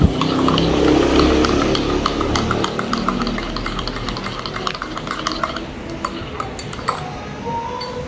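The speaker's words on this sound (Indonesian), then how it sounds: "Kita akan aduk dulu ya teman-teman" A spoon stirs Polomero Blend coffee in a cup, clinking repeatedly against the ceramic sides. The quick, close metallic taps sit over a low background hum, with no one talking.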